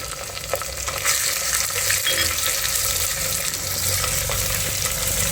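Onion, green chilli and peas fry in oil inside a clay pot, giving a loud, continuous close-up sizzle with occasional stirring scrapes and no speech over it.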